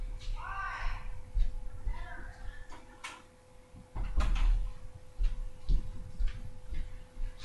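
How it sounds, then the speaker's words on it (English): A door swings shut with a couple of knocking thuds amid rustling and handling noises, fairly close and moderately loud, without clear speech. "sorry, let me close the door."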